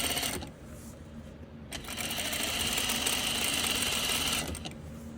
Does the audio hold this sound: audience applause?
no